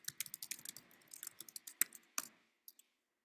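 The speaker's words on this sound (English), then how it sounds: "Type my password." A password is typed on a computer keyboard: a quick run of soft, close key clicks in an uneven rhythm, ending with a couple of isolated taps.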